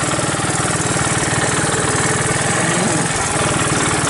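A 1981 Honda ATC185S three-wheeler runs on a cold start, its small single-cylinder engine chugging loud and close in a steady, fast putter.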